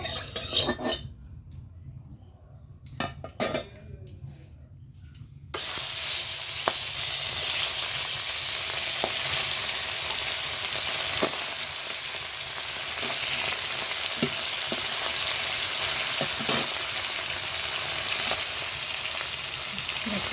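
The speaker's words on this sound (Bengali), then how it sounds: "মাছটা কিন্তু লাল লাল করে ভেজে নিতে হবে" Fish rubbed with salt and turmeric frying in hot oil, a sudden strong sizzle that bursts in and then holds steady, with scattered clinks of a utensil against the pan and no talk.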